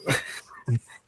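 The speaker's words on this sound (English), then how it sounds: "I've got a dog here. It might make some noises." A dog close by gives two short vocal yips or whimpers, the first longer and the second a brief low bark-like sound, in an otherwise quiet room.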